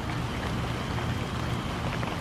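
Steady rain falls outdoors during field testing of a vertical tri-band antenna, a constant dense hiss of drops on surfaces, loud and unbroken with no voices.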